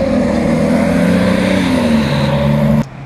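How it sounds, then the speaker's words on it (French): A vintage Bugatti Type 35 racing car in Monaco holding a steady, loud engine drone with a slightly falling pitch, then cutting off abruptly near the end. "Bugatti Type 35, voilà, c'est bien ça."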